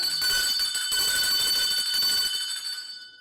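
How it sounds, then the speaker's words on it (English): A ringing bell, sustained bright metallic ringing that holds steadily for a few seconds and then fades out, loud and close, with no speech over it. "Ring the bell."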